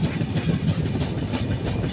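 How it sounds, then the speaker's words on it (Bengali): A train rolling into Bhanga railway station gives a close, low rumble with rhythmic clickety-clack from the wheels over rail joints, heard briefly and without speech. "আমাদের ট্রেনটি ঢুকছে ভাঙ্গা রেলওয়ে স্টেশন"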